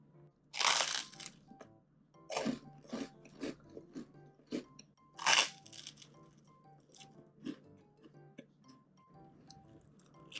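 Toasted slices of bread cut from a white sandwich loaf and crisped in an air fryer, bitten and chewed up close: a loud crunch near the start, a second burst midway, and smaller crackly bites and chewing between them, with no talking.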